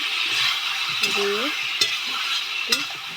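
Pointed gourd and potato curry stirring and frying in a pan, a steady sizzle with a few spoon scrapes and clinks, close and moderately loud, with a short voiced sound briefly over it.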